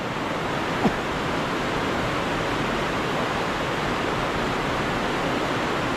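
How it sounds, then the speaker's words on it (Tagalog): Steady, dense roar of rushing water from a waterfall at the end of a river, loud and unchanging throughout, with no voices. "Talon po yan eh, oh."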